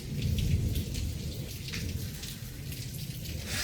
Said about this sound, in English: Torrential rain that I haven't seen the likes of since the 1980s.